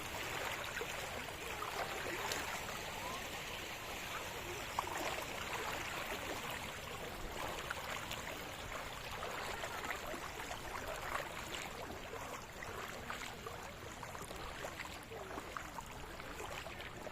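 Floodwater pours across a submerged village road beside a bridge with opened shutters, a steady broadband rushing wash that stays even and fairly distant throughout, with no voices over it.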